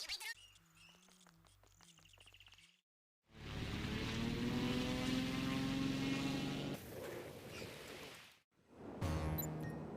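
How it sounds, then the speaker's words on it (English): Steady propeller drone of a plane flying back toward Los Santos in GTA V, a loud sustained hum that cuts out briefly and resumes after short game interface sounds. "Then simply take the plane back to Los Santos."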